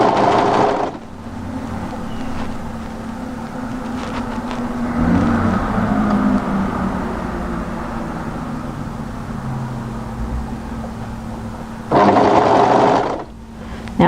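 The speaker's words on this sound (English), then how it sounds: "And then sew along there, and don't stretch it out at all." Sewing machine running steadily as it stitches a seam on a knit oblique coatigan with a draped front and shawl collar hood, a loud continuous mechanical whir lasting several seconds between brief pauses.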